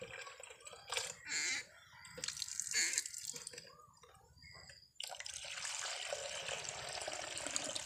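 Water circulating through a three-tier planter pot system used for lotus, vegetables and fish, splashing and trickling in uneven bursts that settle into a continuous close pour.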